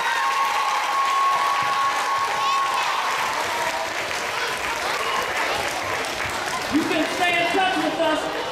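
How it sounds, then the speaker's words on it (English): An audience at a Winard Harper jazz event gives a sustained round of applause, dense and loud, with crowd voices and cheers mixed in and a few whistles near the end. "Please give them a wonderful round of applause"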